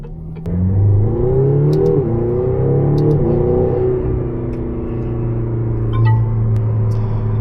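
A 2022 McLaren GT accelerating on the road, its engine rising in pitch through a strong, steady pull with a short shift-like dip midway, loud and close from inside the car.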